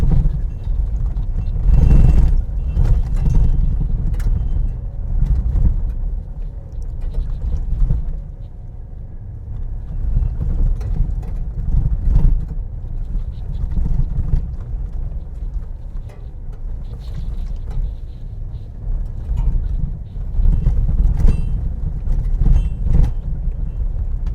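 A 2025 Chevy Silverado 2500 HD pickup on Bilstein 4600 shocks rolling down a gravel road, with a continuous low rumble of tires and engine from inside the cab and irregular thumps and crunches from bumps.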